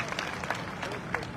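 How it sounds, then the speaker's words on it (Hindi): Hands clap in applause from an audience at a gathering, a brief patter of scattered claps at moderate distance, mixed with a little crowd murmur and voices. "ताली बजाओ मैडम के लिए भाई"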